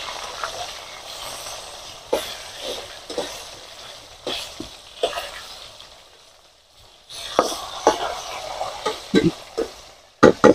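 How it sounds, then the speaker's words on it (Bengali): A whole shankar fish (stingray) sizzling in a pan with bursts of scraping and clattering as it is stirred and flipped, the hiss steady underneath and the flips sharp and close near the end. "এবার মাছটাকে দেখি একটু উল্টিয়ে দিই। এক পিঠ ভালোভাবে হয়ে গেছে।"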